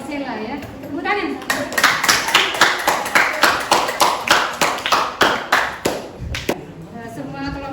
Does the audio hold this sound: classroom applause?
yes